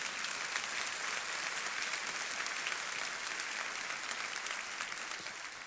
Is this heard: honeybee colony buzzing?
no